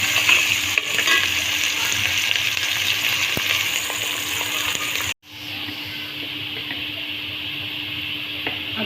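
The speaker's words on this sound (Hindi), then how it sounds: "ये प्याज, कलौंजी और ये जो मेथी दाना और सौंफ है उसका हमने बघार" Onion, nigella seeds, fenugreek seeds and fennel seeds sizzle steadily in hot oil as a tempering, a loud close hiss with stirring, briefly cut off before resuming slightly quieter.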